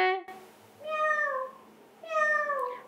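Children in a classroom imitate a cat, giving two or three drawn-out, whiny meows close by, one after another with short pauses between them.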